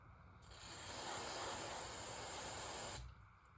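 Carb cleaner sprays from an aerosol can onto parts of a rebuilt Echo PB-250LN leaf blower, a single close, steady hiss lasting about two and a half seconds before cutting off.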